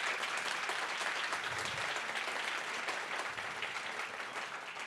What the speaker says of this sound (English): Round of applause for all of those finalists moving on.